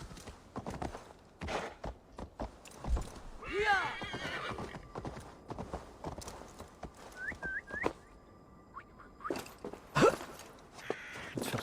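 A horse in the video game Assassin's Creed Valhalla gives loud whinnies and snorts over steady clip-clop hoofbeats, with whistling tones and someone talking intermittently.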